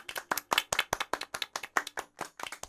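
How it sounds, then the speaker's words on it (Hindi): Crisp individual handclaps in a quick, slightly uneven rhythm, about a dozen sharp strikes close up, as cartoon animals cheer on the tortoise. "कछुए की हिम्मत देखकर वे सभी ताली बजाने लगे"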